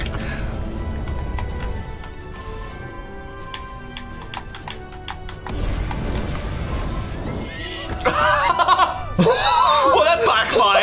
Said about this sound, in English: Just a typical horse.